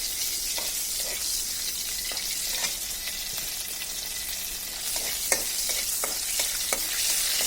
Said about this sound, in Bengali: আমরা এই শুকনো মরিচটাকে একটু হালকা ভেজে নামিয়ে নেব।